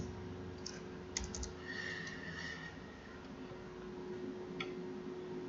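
Quiet keyboard typing while code is entered on a computer, a few soft irregular clicks and short bursts of keystrokes over a steady low hum, no voices.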